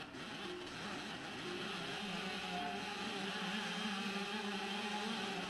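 A racing video game on an iPad, running on OpenGL ES, gives off a faint, steady, hollow engine drone with small pitch wobbles, held at a low level throughout.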